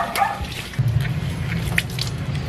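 Water splashes and trickles steadily as restored thrift-store shoes are rinsed, a close, continuous wet swishing with soft drips and no talking.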